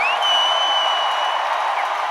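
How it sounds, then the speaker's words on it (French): A big arena crowd at the Centre Bell applauds and cheers for Michel Grenier at the end of a comedy show: a steady, loud wash of clapping and crowd roar with a whistle over it. "Applaudissez Michel Grenier."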